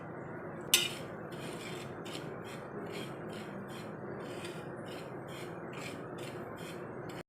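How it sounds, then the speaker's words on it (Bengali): Poppy seeds dry roasted in a pan and stirred gently make soft, rhythmic scraping strokes, opening with one sharper clink, all quiet and close with no voices. "এই পোস্তটাকে আমি মোটামুটি পাঁচ ছ মিনিট মতন একটু হালকা হাতে নেড়ে নিচ্ছি"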